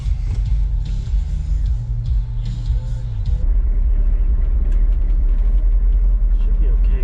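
A car drives along with a steady low rumble and road noise inside the cabin, the engine tone shifting partway through while a voice speaks over it.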